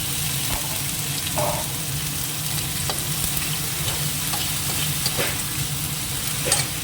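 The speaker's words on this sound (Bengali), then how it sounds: "এবার এই চিংড়ি মাছটাকে দিয়ে দিই একটু একটু নেমে নিলাম এর মধ্যে পেঁয়াজ আবার কেটে দিয়েছি" Shrimp and chopped onions fry in a hot pan, giving a steady close sizzle with scattered stirring clicks and scrapes throughout.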